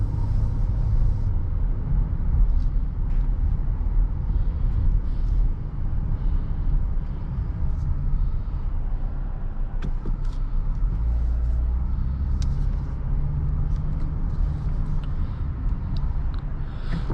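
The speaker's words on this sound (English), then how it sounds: "We'll get this car out on a drive." A 2023 Dodge Challenger SXT pulling away on a drive, heard from inside as a steady low engine and road rumble that stays loud and even throughout.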